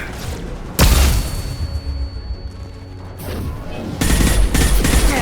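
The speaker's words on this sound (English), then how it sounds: "Watch out, flashbangs!" Flashbang grenades go off in Mass Effect 2 as two loud, sudden bursts a few seconds apart, each followed by dense noisy rumble and crackle from the game's combat.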